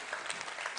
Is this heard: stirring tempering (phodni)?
no